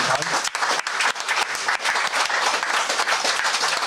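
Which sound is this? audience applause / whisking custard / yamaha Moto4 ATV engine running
audience applause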